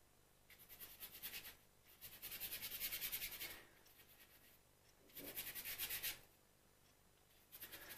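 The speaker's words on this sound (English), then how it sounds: "by working the brush back and forth quite vigorously, I'm putting down just a thin layer on this foreground cow" Paintbrush worked vigorously back and forth, laying a thin layer of blue paint onto a cow painting, heard as close, dry rubbing strokes in bursts with quiet pauses between them.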